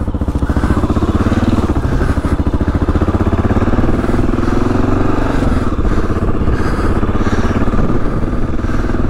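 A 2022 Kawasaki KLR 650 motorcycle riding off-road, its single engine droning steadily and close throughout with a loud, even pulse and a little mechanical clatter.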